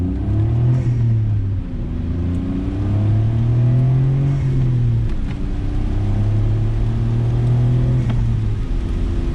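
A stock turbocharged engine in a 1993 Suzuki Alto Works RS-R with AWD and a five-speed manual climbs through the revs in repeated pulls, each shift dropping the pitch before it rises again, loud and close from inside the car.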